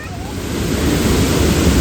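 Rushing water from a waterfall along the stairs of Watkins Glen State Park, a broad roar that swells and holds steady over a couple of seconds, close and loud.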